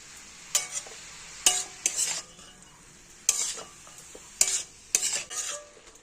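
Cabbage being stirred with salt in a pan, a spoon scraping and clattering in several sharp bursts with a light sizzle underneath, close and fairly loud, no voices.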